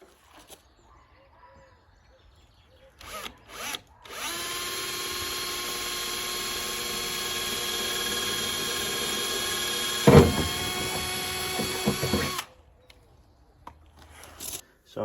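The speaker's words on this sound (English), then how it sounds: "I'm going to drill a pilot hole there" A power drill bores a pilot hole through wood inside a campervan, whining steadily for about eight seconds with a brief louder jolt near the end before stopping, preceded by a few handling knocks.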